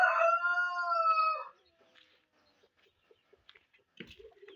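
A rooster crows loudly and close at a small home poultry setup, the long crow dying off after about a second and a half, followed by sparse, quiet hen clucks and faint scratching sounds.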